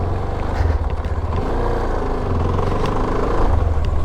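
A CFMOTO 300NK or 300SR motorcycle on a test ride, with a steady, loud engine drone and wind noise and shifting pitch as the bike accelerates along the road.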